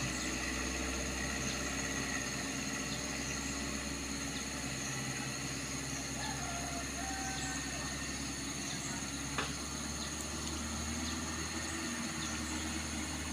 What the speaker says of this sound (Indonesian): Ini dia bosku L300 pembawa gas, nampak begitu santai melewati tanjakan kedawuan bosku.